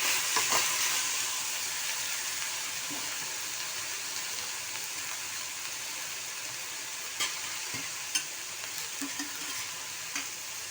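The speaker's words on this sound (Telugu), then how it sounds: "కొంచెం పచ్చివాసన పోయిందాకా కొంచెం వేయించుకుందాము ఆయిల్లో" Tomatoes frying in oil for a Telugu brinjal masala curry, a steady broadband sizzle with occasional stirring clicks, close and continuous with no talking.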